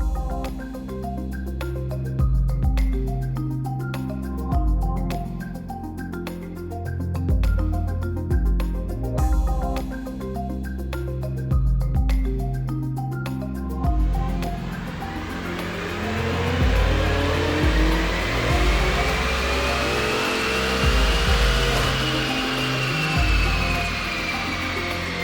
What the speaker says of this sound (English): we just completed those 3 runs in RT Tuning's dyno room